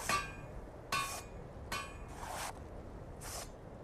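Metallic hammer blows ring out at a blacksmith's forge in the video game Skyrim: five sharp, clanging strikes spaced roughly a second apart, each ringing briefly, with no speech.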